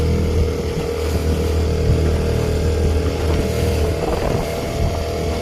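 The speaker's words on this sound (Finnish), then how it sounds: "Joku 80-luvun Evirune, se käy vaan yhdellä pytyllä." A 1980s Evinrude outboard motor runs unevenly on just one cylinder, a steady loud droning engine hum that continues without pause and with no talk over it.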